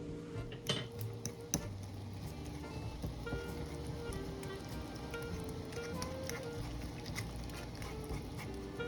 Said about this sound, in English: Now we'll just take a fork and we're just going to crush up our beans a bit.